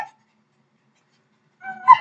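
A pet dog lets out a short whimpering whine close by after a quiet stretch, a brief high vocal burst near the end.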